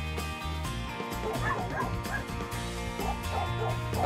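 Several playful dogs yip and bark in short scattered bursts over steady music, fairly quiet in the mix.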